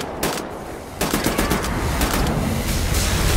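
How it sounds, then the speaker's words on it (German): Rapid automatic gunfire from the shooter Wolfenstein: The New Order, a dense sustained burst of loud shots that starts after a brief pause and keeps hammering without letup. "so kann ich hier schießen"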